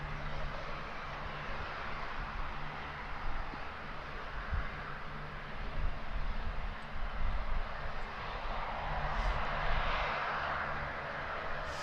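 A C-17 military transport's engines drone steadily from inside the aircraft, a broad, loud, continuous roar with a low hum, no voices.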